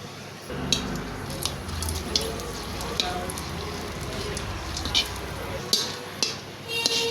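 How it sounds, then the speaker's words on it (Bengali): Chilies fry in hot oil in a wok, a steady crackling sizzle with scattered sharp pops, moderately close, with a voice faintly present. "মরিচটা দিয়ে দিই একটু মরিচটা ভাজতেই দেবো"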